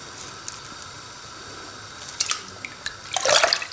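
Water poured into a cooking pot over tomato, a short soft splashing that builds to a brief louder gush near the end, close by with no talk.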